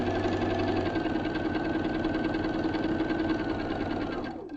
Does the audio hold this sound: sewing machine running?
yes